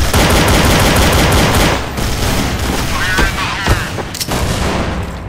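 Rapid automatic gunfire from the Counter-Strike game plays loud and dense for nearly two seconds, then thins into scattered shots and booms with faint background voices.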